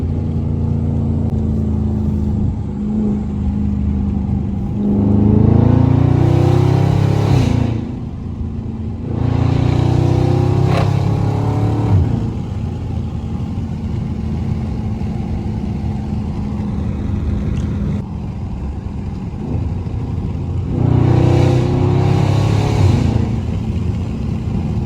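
A Dodge Charger Scat Pack on backroads accelerates hard in sport mode, its engine rising in three loud revving surges separated by quieter cruising stretches, with no talking over it.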